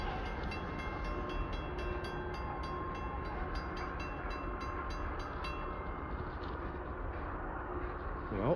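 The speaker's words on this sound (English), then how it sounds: "This is their first train since the snowstorm we had in the weekend." A coal train on the Sydney Coal Railway rolls steadily past a snowy level crossing, a dense continuous rumble of wagons with metallic squeal and clatter at close range, holding loud throughout.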